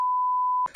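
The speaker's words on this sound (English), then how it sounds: "maybe I'll beep it or not" A censor bleep: one steady, loud pure tone lasting about two-thirds of a second, cutting off abruptly into a burst of noisy sound, as used to mask a word in a podcast discussing the best films of the century.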